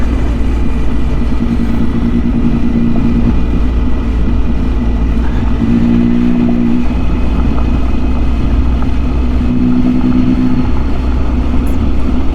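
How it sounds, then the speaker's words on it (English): Road traffic streams past steadily on a lake route, a continuous low engine drone with a few vehicles humming through more distinctly over the constant roar. "A fair bit of traffic comes through here"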